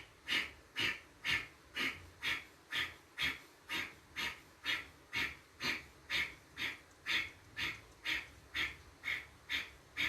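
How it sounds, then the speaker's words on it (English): Quiet, close yoga breathing in a women's practice, with a long regular series of short forceful breaths repeating about twice a second. "Next inhale."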